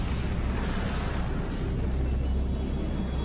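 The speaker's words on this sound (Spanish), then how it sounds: "El universo nació a partir de una gran explosión inicial llamada en inglés Big Bang." A deep, sustained explosion rumble depicting the Big Bang, heavy and dense at the low end with a steady hiss above, holding at an even level for about three seconds with no voices.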